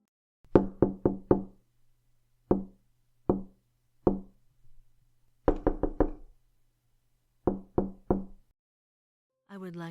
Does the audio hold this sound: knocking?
yes